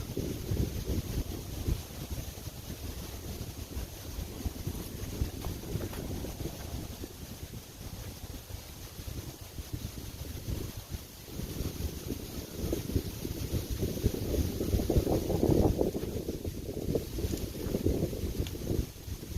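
Strong gusting wind buffets the microphone on a Pennsylvania disc golf course, a continuous low roar that swells louder near the end, with no talk.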